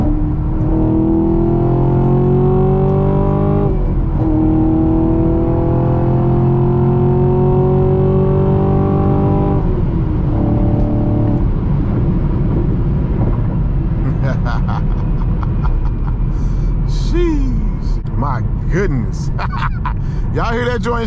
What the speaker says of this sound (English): This car is a freaking blast to drive. Let's ring it out a little bit